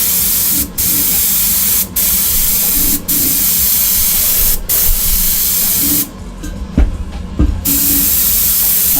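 An airbrush sprays base coat onto Greek style vases, giving a loud, steady close hiss cut by short breaks, then quieter bursts with a few light knocks.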